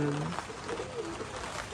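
A young light-coloured biscuit pigeon gives a few soft, low coos close by in a cage, with a person talking quietly over the sound.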